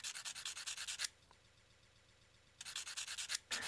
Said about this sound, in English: So first thing we need to do is scuff the tube.